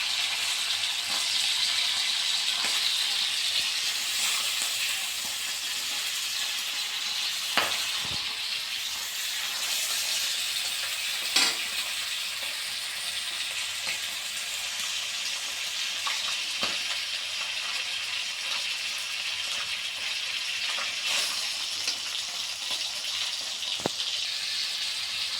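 Foli fish frying in hot oil in a home kitchen, a steady dense sizzle and crackle throughout with occasional faint clinks and stirring rattles, no talk.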